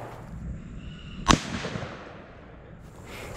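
Single rifle shot of M855 ball ammunition striking a resin-backed ceramic armor plate, a sharp crack followed by a rolling echo fading over two seconds, heard from a short distance with no talking.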